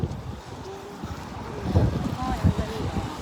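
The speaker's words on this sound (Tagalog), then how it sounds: "Mahangin ngayon." Gusty wind buffets the microphone in low rumbling surges in the city of Doha, with some faint voices and background activity mixed in.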